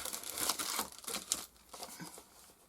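A paper envelope is handled up close, quiet crinkling and rustling in uneven bursts that fade toward the end.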